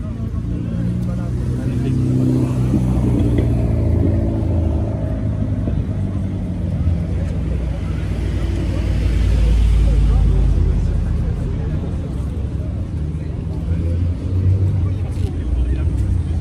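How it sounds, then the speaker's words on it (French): A Porsche Turbo S at a car gathering on a town square makes a steady low engine rumble that holds for a long stretch, with people talking nearby. "Turbo S, Porsche."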